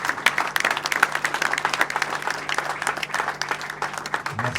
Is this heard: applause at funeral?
yes